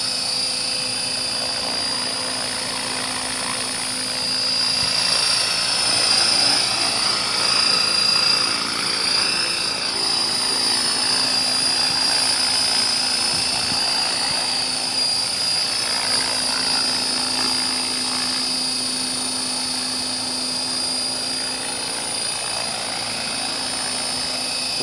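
A newly built AH-1 Cobra model helicopter hovers on its maiden test flight. Its rotor and motor give a continuous high whine with a steady throb that holds nearly unchanged for the whole stretch.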